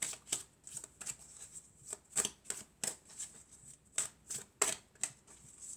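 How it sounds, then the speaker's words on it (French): Oracle cards being shuffled by hand: a quick, uneven series of crisp riffling flicks and soft slaps, about a dozen bursts, close but quiet, with no talking. "on va prendre quelques cartes de mon oracle"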